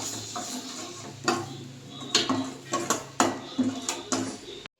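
Lemon rice stirred in a pan on a switched-off stove, a spoon tapping and scraping the metal in a steady series of close, sharp clinks.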